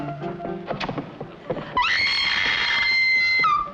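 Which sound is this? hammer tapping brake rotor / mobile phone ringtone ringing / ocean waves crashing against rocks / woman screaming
woman screaming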